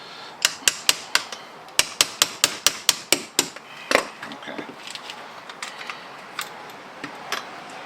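Hammer strikes knocking a part out of a UAC Hammer kit: about a dozen sharp, loud metallic-wooden taps in a quick, even series, followed by softer, scattered knocks.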